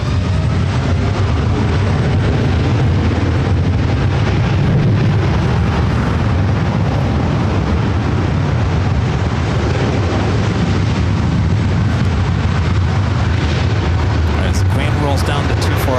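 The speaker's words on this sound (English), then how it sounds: "the Asiana A380 Super now short funnel for 24 right as it passes over Lincoln Boulevard" An Asiana Airbus A380 landing at LAX, passing low over Lincoln Boulevard, makes a loud, sustained deep jet roar that fills the whole stretch, heavy and rumbling throughout.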